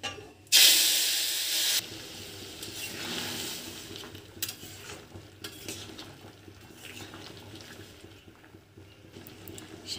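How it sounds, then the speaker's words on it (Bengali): Dal hits hot mustard oil tempered with whole cumin, dried chillies and bay leaves, giving a loud burst of sizzling hiss that fades over a second or two, followed by quieter stirring and pan scrapes. "লাউ আর শিম ভালোভাবে নরম হয়ে গেছে। সর্ষের তেল গরম হয়ে গেছে, গোটা জিরে, শুকনো লঙ্কা, তেজপাতা,"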